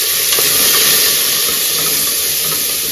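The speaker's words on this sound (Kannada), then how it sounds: "ಇದು ಫ್ರೈ ಆಗ್ತಾ ಇರಲಿ" Lentils and vegetables for South Indian sambar fry in a pan with a loud, steady sizzle and steamy hiss that holds evenly throughout, close up and with no voices.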